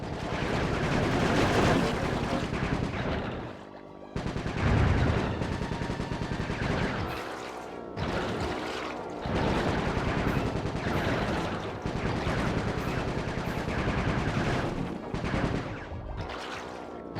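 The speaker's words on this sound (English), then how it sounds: "My gun overheated. Guess I should use short bursts." Gunfire in short bursts from the Sly Cooper 3: Honor Among Thieves video game (2005) during a vehicle chase, loud and dense over the game's music and effects, with brief gaps between the runs of shots.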